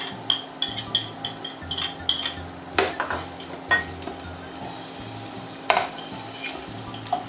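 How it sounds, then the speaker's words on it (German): Garlic sizzles in a frying pan while a utensil stirs it, with repeated scraping and light clinks of metal against the pan over a soft, continuous fry. "Ich gebe jetzt hier den Knoblauch in die Pfanne."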